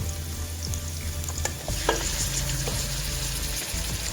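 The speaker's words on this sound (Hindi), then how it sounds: "और चिकन को हम फ्राई कर लेंगे" Chicken and onions fry in hot ghee in a kadhai, a steady close sizzle with stirring scrapes and a low hum running underneath throughout.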